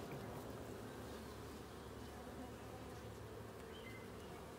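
Honey bees swarm and buzz steadily around an open top bar hive during an inspection, a dense, continuous drone close by with no talk.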